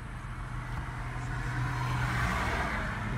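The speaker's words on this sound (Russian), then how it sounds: "Это звук мотора Порше." A Porsche engine hums steadily at a moderate distance, a low continuous motor drone that swells slightly toward the end with no speech over it.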